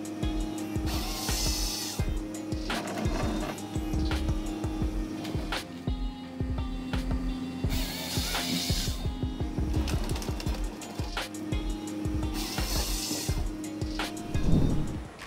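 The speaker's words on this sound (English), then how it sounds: "In cold weather, the cutting machine still works non-stop." Heavy-duty wood-cutting and log-splitting machinery runs in cold weather with a loud, steady mechanical clatter, repeated sharp knocks and three bursts of bright hissing, close and alone with no talk.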